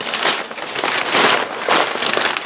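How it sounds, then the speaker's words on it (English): Paper being handled for an oil-based clay sculpture crumples and crinkles in loud, close, continuous rustling bursts, with no talk over it. "you hear that? That's the paper"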